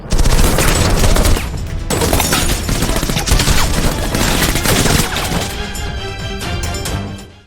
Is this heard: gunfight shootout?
yes